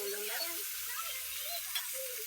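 Chopped tomatoes sizzle in a hot pan while being sautéed for the Ilokano dish pinakbet, a soft steady frying hiss with faint stirring and a quiet voice in the background.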